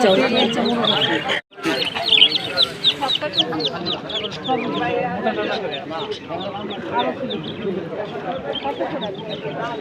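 Chickens and roosters cluck and squawk continuously nearby at a bird market, a busy overlapping chorus of birds with a brief pause early on.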